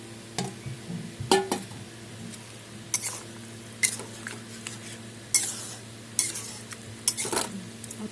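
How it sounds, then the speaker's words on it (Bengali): Eggplant and dried shrimp, already fried, are stirred into a pan for a Bengali curry, with repeated scraping strokes of a spoon against the pan at an uneven rhythm over a soft background sizzle. "ভেজে রাখা বেগুনটা দিয়ে দিলাম, আর চিংড়ি শুটকিগুলি আগে থেকে ভেজে রেখেছিলাম ওটা দিয়ে দিলাম।"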